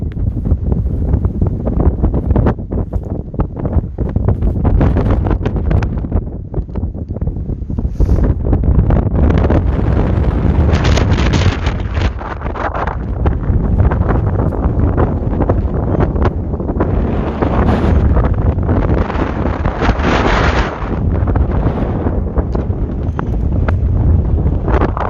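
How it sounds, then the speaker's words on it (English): Strong, near-freezing wind at an Iron Age fort batters the microphone in loud, continuous roaring gusts that rise and fall throughout, with no voices over it. "It is so windy."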